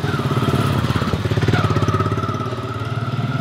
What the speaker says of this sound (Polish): Uważaj motory!